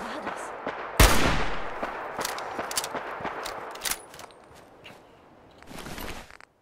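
Gunfire in the video game Fallout 4: a loud blast opens, followed by scattered sharp shots and thuds at varying distances, with another heavy burst near the end.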